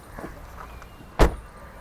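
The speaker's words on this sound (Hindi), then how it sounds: "अब एक वो इको स्पोर्ट का दरवाज़ा खोल के बंद करो।" Ford EcoSport car door opened and then shut, a faint click early on followed by a single loud, solid thud of the heavy door closing, close by with no talking.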